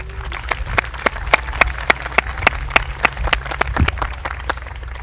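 An audience applauds to welcome Art Garcia, a Wintu tribal leader, with a run of sharp, evenly spaced claps that hold steady and fairly loud for several seconds.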